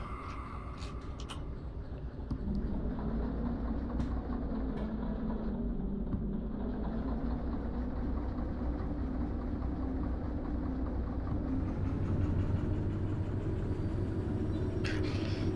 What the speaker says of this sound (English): So back in my train, I need to turn it back on.